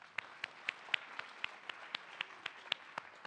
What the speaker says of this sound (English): So please give them another hand.